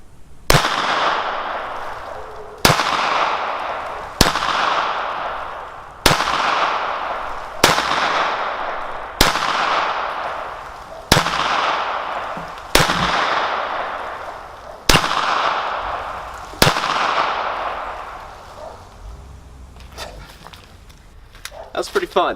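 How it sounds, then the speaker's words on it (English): A Smith & Wesson Victory .22 target pistol fires about ten sharp, close shots at a steady pace, each a couple of seconds apart and ringing briefly. Quieter handling noise follows the last shot. "We're gonna take a few shots to see how we do."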